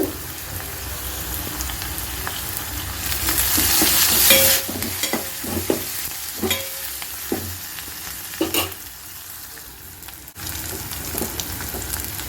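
Turmeric and ginger garlic paste are stirred into onions, green chillies and fenugreek in a frying pan: a steady sizzle with a loud burst of frying and repeated scraping and tapping of a spoon against the pan.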